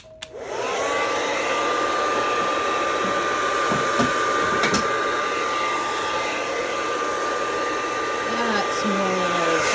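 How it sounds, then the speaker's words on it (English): A hair dryer switches on and runs at a steady, loud whir with a high whine, with a few faint knocks and rustles over it, blowing acrylic pouring paint across a canvas. "We'll grab the hairdryer again."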